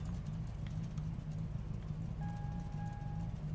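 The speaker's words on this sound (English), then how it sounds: "it's his piece of shit car making that noise" A rough, droning car engine in the Redline RP video game, a low continuous rumble with a faint tonal whine near the end and no speech.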